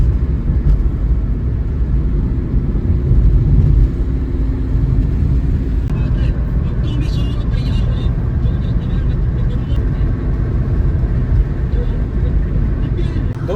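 A car drives along a road at night, its steady engine and road rumble loud and continuous throughout, with talk running over it.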